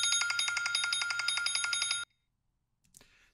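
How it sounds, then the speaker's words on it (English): A ringing telephone-style bell treated with a great hall reverb effect, rapid repeated strikes for about two seconds, then stopping with a short faint tail and a brief later noise. "a great hall reverb effect. That's going to make it sound like it's in this huge room here."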